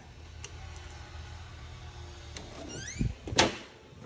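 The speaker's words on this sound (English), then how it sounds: "As soon as I shut the door, release him." An interior house door shuts with a short clunk and latch click, followed by a brief rattle, heard close in a quiet room with faint background hum.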